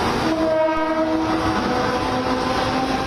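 A train rolls slowly along rail tracks flooded during monsoon floods in Mumbai, with a steady rumble and faint wheel noise. A horn sounds through the first half.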